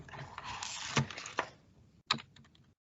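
Keystrokes on a computer keyboard typing text into a form field, a few close, distinct clicks in a short irregular burst, then a pause and a couple more taps, heard alone without talk.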